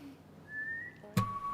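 A person whistles a sustained, rising tone, then a sharp knock lands and a steady higher whistle follows, close and clear against a quiet background.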